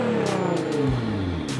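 A Nissan GT-R engine revs loud and close and holds a sustained roar that sweeps down in pitch, with no talk over it.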